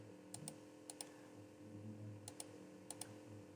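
A computer keyboard is typed on in short pairs of light, quick clicks while a circuit is built in Proteus software, quiet against a steady hum with no talking.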